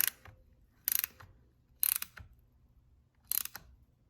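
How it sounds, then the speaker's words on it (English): A ratchet wrench snugs the bolts on a Toyota dual transfer case with light torque, giving four short bursts of rapid clicking separated by quiet pauses, close and crisp. "I'm gonna very lightly snug these with a wrench with very light torque."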